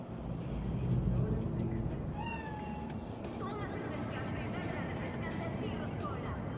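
A cat spirit meows in the Cyberpunk 2077 video game, a few short mewing calls rising over a low ambient rumble with game dialogue nearby.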